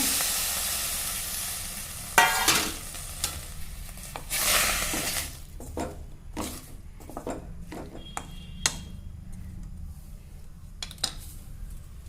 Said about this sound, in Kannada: ಗ್ಯಾಸ್ ಮೇಲೆ ಒಂದು ಕಡಾಯಿ ಇಟ್ಕೊಂಡೇನಿ ಮತ್ತು ಈಗೇನು ಅದ್ರಾಗ ಟೊಮೆಟೊ ಹೆಂಚ್ಕೊಂಡಿಲ್ಲ ಅಷ್ಟು ಹಾಕಾಕತ್ತೀನಿ